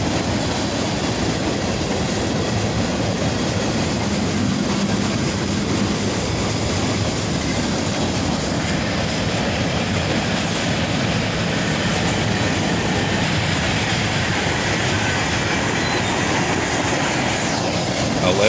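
Norfolk Southern freight train crossing a bridge, a steady loud rumble of wheels and cars with faint clickety-clack rolling on continuously at close range.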